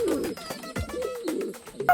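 Pigeons coo in low, throaty bursts, several birds calling close by with soft rustling and fluttering between the coos.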